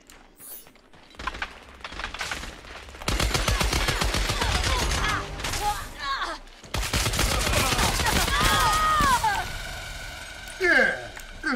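Gunfire in the video game Scavengers comes in dense, overlapping bursts and rapid volleys, loud and close, with mechanical clatter and game effects, while voices talk over the shooting.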